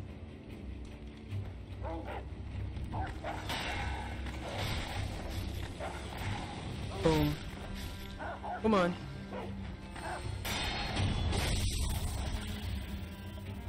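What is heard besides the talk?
dogs barking in the video game Sekiro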